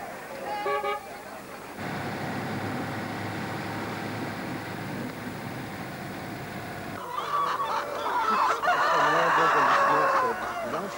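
Hens and roosters on a farm in Mali raising about a thousand chickens along with chicks, ducks and geese: steady clucking and crowing fill the air, with louder bursts of crowing near the end.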